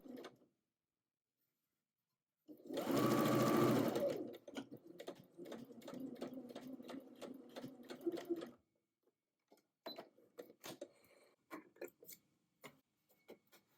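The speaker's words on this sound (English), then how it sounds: "stitch a 1/4 inch or 6 millimeters inside the seam line using a long machine" A sewing machine runs a long stitch along a curved pocket edge, starting with a loud whirring burst, then a steady rapid clatter, followed by scattered light ticks and taps.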